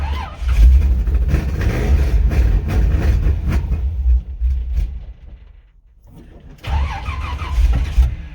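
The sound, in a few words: car engine cranking on a cold start with a weak battery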